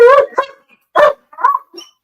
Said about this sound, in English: Oh, we got dogs and everything.